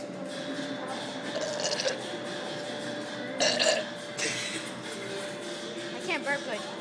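A person burps, with a couple of rough eructation bursts near the middle and end standing out over a steady background hum and low murmur of voices.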